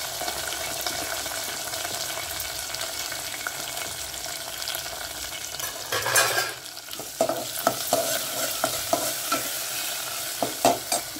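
Curry leaves, green chilies, crushed garlic and onions fry in hot oil, a steady sizzle that turns louder around the middle, followed by repeated stirring scrapes and knocks.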